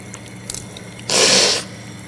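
A forceful blow of water out of the nose during wudu ablution, one short breathy burst in the middle after a few faint splashes, close and loud.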